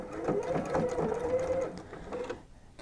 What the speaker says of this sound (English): I'm going to sew along that edge